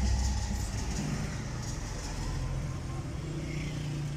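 A 2016 Suzuki Wagon R driving along, its steady engine hum and road noise continuous and fairly loud throughout, with no other sounds standing out.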